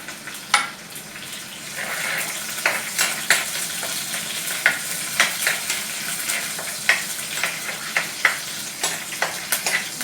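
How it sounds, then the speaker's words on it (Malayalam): Mustard seeds splutter in hot oil in a pan while a tempering is made for a kudampuli fish curry with ground coconut. Sharp scattered pops crackle over a steady sizzle, close up and without talk. "നമ്മൾ ഇതിനകത്തോട്ടാണ് കടു പൊട്ടിച്ച് ഒഴിക്കാൻ പോകുന്നത്"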